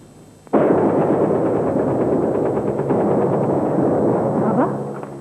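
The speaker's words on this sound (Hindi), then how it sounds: "ये फायरिंग की आवाज कैसी है?" Sudden loud gunfire erupts in a 1994 PTV drama serial scene, a dense, continuous barrage of rapid shots that starts abruptly and rolls on for several seconds before easing slightly, with no talking.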